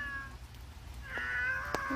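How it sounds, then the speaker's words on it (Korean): A cat gives a couple of short meows, the last one sharper and louder, over a quiet indoor background with faint low hum. "이리 와, 냐옹아"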